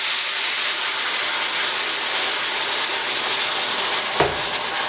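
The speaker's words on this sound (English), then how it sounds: "So now I'm just going to pour the water in there." Two cups of water poured into a hot pan of browned chicken drippings for smothered chicken gravy, producing a loud, steady steaming hiss that holds for several seconds, with a brief dip and knock near the end.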